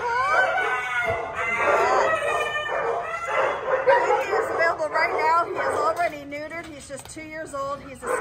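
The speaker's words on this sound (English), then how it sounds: "He's a Staffordshire Bull Terrier, kind of a mix." A young Staffordshire Bull Terrier mix dog barks, yips and whines in a busy run of vocalizations, with other dogs and people chattering nearby in a noisy kennel or shelter setting.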